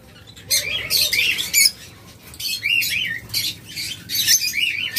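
Caged lovebirds, cockatiels and budgerigars calling in bursts of rapid, warbling chirps and squawks, close and fairly loud, repeating every second or so with short pauses between, and no one speaking.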